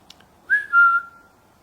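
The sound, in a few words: whistling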